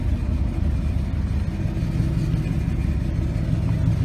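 A 2009 Nissan Titan Pro-4X pickup truck engine rumbles steadily with a deep, low revving tone, close and continuous throughout, with no talking.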